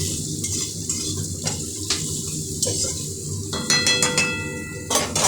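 Food frying in a pan gives a steady sizzle under repeated metallic clinks and scrapes of a utensil against the pan, with a busier burst of clatter toward the end and no voices.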